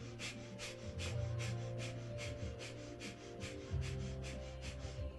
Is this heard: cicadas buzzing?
no